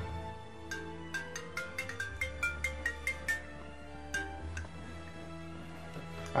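A phone rings with an incoming call, playing a tinkling electronic ringtone as a quick run of evenly spaced chiming notes, moderately close, over a low background hum and with no talking.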